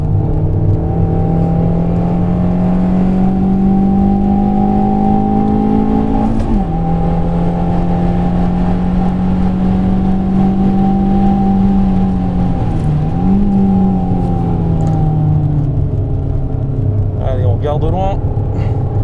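A Fiat Panda 100HP drives on a race circuit with a steady, loud engine drone from inside the car, pitch dipping at gear changes, and squealing near the end.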